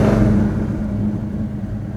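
A 1969 Chevrolet Chevelle SS with Sniper EFI fuel injection runs loud and close, its deep engine rumble easing down from a rev and settling toward a steady idle.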